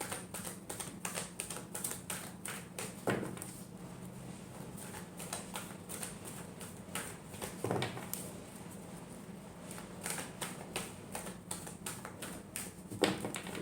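Tarot cards shuffled by hand during a love reading: a steady run of soft, rapid papery flicks and taps, close and fairly quiet, with a few sharper slaps along the way and no talking.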